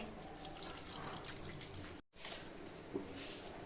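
Water trickles and drips steadily into chilli fish sauce as it is being made, a soft continuous splashing pour with a brief pause midway and no talking.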